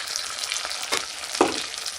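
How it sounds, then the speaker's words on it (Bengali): A cashew, poppy seed and fennel paste fries in a pan for a doi rui curry, giving a steady close sizzle broken by a few sharp stirring scrapes, with no voices. "এবার আমি দিয়ে দেব বেটে রাখা কাজু, পোস্ত, মৌরির যে পেস্ট আমি বানিয়েছিলাম ওটা দিয়ে ভালো করে কষাবো।"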